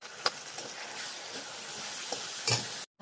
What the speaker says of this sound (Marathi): मूग डाळ पण टाकून घेते आणि दोन्ही पण छान परतून घेणार आहे.